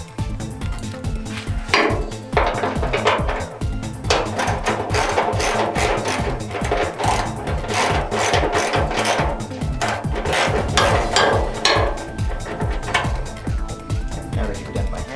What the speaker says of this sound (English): carefully remove your bolts on the one side